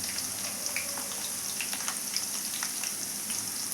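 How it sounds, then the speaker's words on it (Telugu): Ginger paste hits hot oil in a pan while stuffed eggplant cooks, producing a close, steady sizzle and crackle with scattered small pops, continuous and without talk. "ఇందులో మనం ఇప్పుడు అల్లం పేస్ట్ వేస్తున్నానండి నేను."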